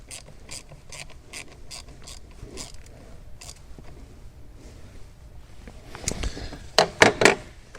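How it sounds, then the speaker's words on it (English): A hand ratchet clicks in short bursts while tightening the mounting bolt on a car's boost pressure sensor, with a few louder clacks near the end and no talking. "I'm going to tighten the bolt."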